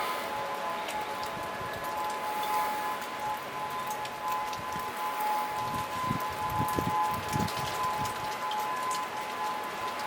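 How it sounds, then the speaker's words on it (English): A steady civil-defense siren wails as a continuous tone through Hurricane Douglas on the south shore of Oahu, heard over constant rain patter and gusty rumble, fairly distant and unbroken throughout. "That's the siren."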